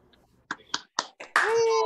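Audience members at an online concert clap through open microphones: a few separate, sharp claps spaced about a quarter second apart, then a sustained held tone takes over.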